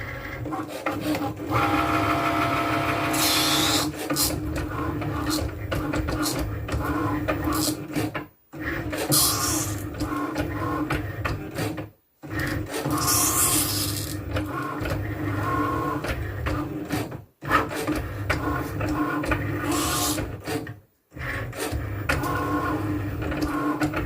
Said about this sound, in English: It's going to start to cut out the design.